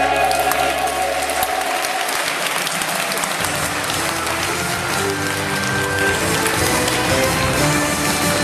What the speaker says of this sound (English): He's clapping.